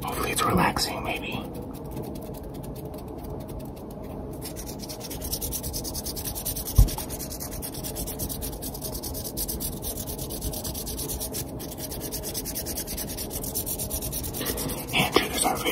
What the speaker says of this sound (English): Hand triggers are very underrated in my opinion.